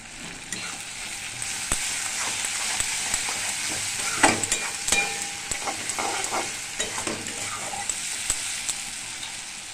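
Aubergine and spices frying in hot oil in a pan for a fish and brinjal curry, steady crackling sizzle with intermittent scraping stirs of a spatula, close and continuous with no voices.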